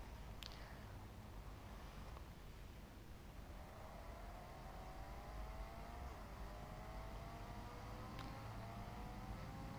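A stolen car drives steadily in a video game, its engine a constant low roar with rising whine sweeps over a loud, unbroken noise bed, with a couple of sharp clicks standing out early and late.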